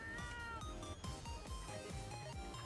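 A cat meows repeatedly in short, sliding calls over a busy background, faint and fairly steady throughout.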